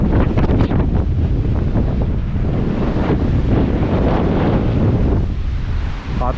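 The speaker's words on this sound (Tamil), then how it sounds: "காற்று சும்மா சட்டப்படியாக வீசுது." Strong wind blowing outdoors at Belwood, Sri Lanka, buffeting the microphone with a loud, continuous roar and rumble throughout, easing slightly near the end.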